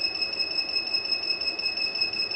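A 3000W 12V power inverter's overload alarm whines continuously at a constant high-pitched tone, loud and unbroken, with no voices.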